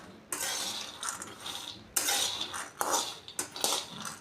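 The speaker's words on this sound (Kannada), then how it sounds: "ಶೇಂಗಾ ಕೆಂಪು ಆಗೋವರೆಗೂ ಹುರ್ಕೊಳ್ಳೋಣ" Peanuts being dry-roasted in a pan until reddish, with bursts of scraping and rattling as the nuts are stirred and tossed against the metal, loud and close with no talking.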